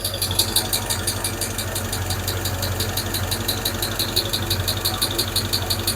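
A Hemi V8 engine idling steadily up close, with a constant low rumble and a fast ticking rattle running throughout, no voices.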